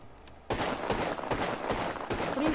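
Gunfire in the video game Apex Legends: dense bursts of rapid shots begin abruptly after a brief quiet start and continue loudly in repeated volleys, with a fainter ring between bursts.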